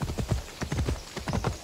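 Cow hooves clip-clopping in Assassin's Creed Odyssey, a quick even rhythm of hoof beats on the ground, fairly close and moderately loud, with no talk.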